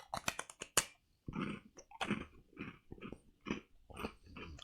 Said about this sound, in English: very big crunch.